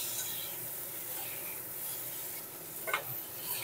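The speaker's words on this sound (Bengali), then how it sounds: "এদিকে পটলটাও আবার নেড়ে দেব।" Pointed gourd (potol) frying in a wok is stirred, a faint, soft sizzle and rubbing scrape continuing throughout with a brief clink near the end.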